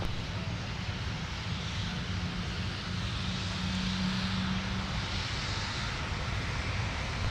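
A fixed-wing airplane's engines roar in a steady, distant wash as it takes off from runway 17 at Minneapolis–Saint Paul airport, a continuous rumble with no pauses.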